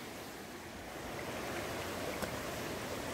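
A stream flowing near a waterfall outside Kathmandu, Nepal, gives a steady broadband rush of water that stays close and constant, growing slightly fuller partway through, with no voices.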